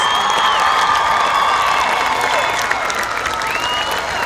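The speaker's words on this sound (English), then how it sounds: "Round of applause for Justin Rodriguez and Jaya Morales." Graduation ceremony audience applauding steadily, a dense, loud, continuous wash of clapping with some cheering and whoops mixed in throughout.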